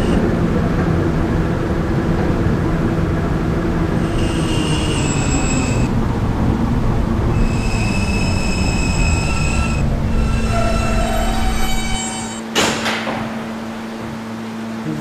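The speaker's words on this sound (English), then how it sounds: "This is a Potato Burg-bound B train" A subway B train running along the track, a steady loud rumble with repeated high wheel squeals, ending in a sharp clack before the noise eases.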